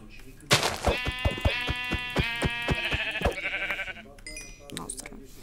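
Goat bleating in a video game, a loud, rapid, stuttering pulsed cry lasting a few seconds, close up, followed by quieter game sounds, with someone talking over it.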